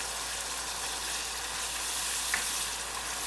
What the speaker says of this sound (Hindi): इसको मैं थोड़ी देर भून लूँगी ताकि हल्दी का कच्चापन जो है ख़त्म हो जाए